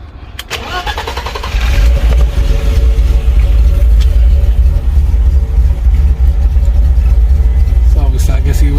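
A BMW E30 convertible project car cranks briefly, then its engine catches and settles into a loud, steady close-up idle with a continuous low rumble, while someone talks over it.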